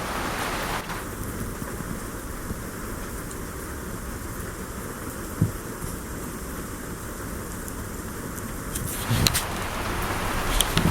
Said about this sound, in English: The rain actually woke me up.